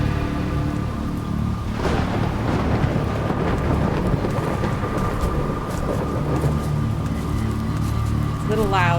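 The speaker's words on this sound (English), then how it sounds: "It's raining." Steady rain with a low thunder rumble fills the stormy night in the Jenny LeClue video game, a dense continuous wash that holds loud throughout, with a brief rising tone near the end.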